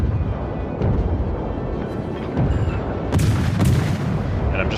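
Cruiser guns on the Japanese IJN Katori fire high-explosive shells in a World of Warships naval battle, with several sharp booming salvos over a constant background rumble and a loud cluster near the end.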